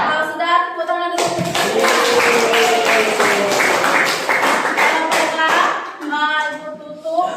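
A classroom of students clapping together for several seconds, a dense burst of rhythmic applause between stretches of a voice speaking before and after.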